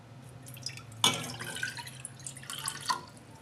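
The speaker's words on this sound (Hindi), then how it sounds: "1 कप पानी डालते हैं।" One cup of water poured into a pan sitting on a stove while making Sulemani tea, a short splash followed by a light trickle and drips, close and alone.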